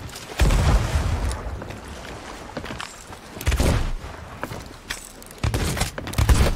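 Bursts of rapid gunfire in a video game come in three loud volleys spread across the moment, each a dense rattle of shots with quieter gaps between them, and no talk over it.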